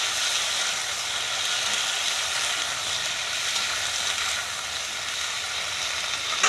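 Pumpkin pieces fry in hot oil with whole cumin, giving a dense, even sizzle that holds steady and close without pause.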